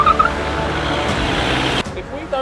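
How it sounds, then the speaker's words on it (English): A racing car pulls away hard on a race track, tyres squealing loudly against a constant engine roar that cuts off sharply near the end. "Tyre squeal."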